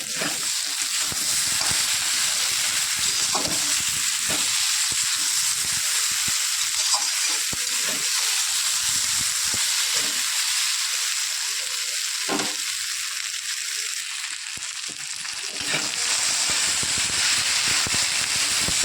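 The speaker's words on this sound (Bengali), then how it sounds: "সবজিটা আমি ভাজা ভাজা করে নিয়েছি" Mixed winter vegetables sizzling as they fry in a pan for an amudi fish dish, a dense steady crackling hiss with scattered sharper pops, close and continuous throughout.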